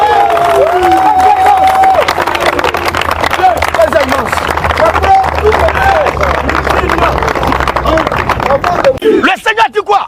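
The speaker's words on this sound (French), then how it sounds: "On acclame le Seigneur Jésus-Christ." A church congregation cheers and acclaims together in a loud, dense roar of raised voices with scattered clapping. The sound is sustained and close, then breaks into choppier bursts near the end.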